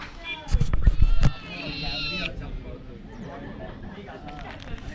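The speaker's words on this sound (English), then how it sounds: "have a cat beside me now. See cute cat." A cat meows close by in the countryside after a trail-running race, a short rising cry heard alongside someone talking and some rustling and bumping handling noise.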